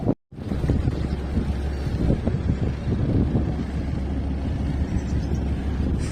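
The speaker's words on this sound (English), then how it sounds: "Wind's blowing from left to right." Wind buffets the microphone during a sailboat haul-out, a steady rumbling gusty roar with turbulent low swells that continues throughout after a brief dropout at the very start.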